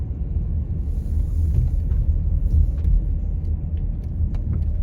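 Car driving through a parking garage at Walt Disney World, a steady low rumble of engine and tires echoing faintly in the enclosed space, with occasional light clicks and no talking.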